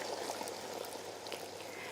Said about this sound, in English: I'm just going to add some hot water and bring the lentils to a little bit of boil